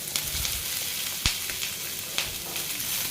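Oil sizzles and crackles steadily in a pan as cumin, pepper, cinnamon, cloves, green chillies and onion sauté, with occasional louder pops and stirring scrapes.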